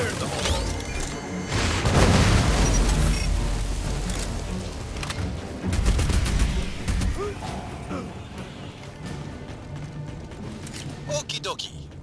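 In the Aliens Fireteam Elite game, a grenade explodes and gunfire follows. Two heavy booms come around two and six seconds in, with sharp crackling shots and debris between them, under occasional talk.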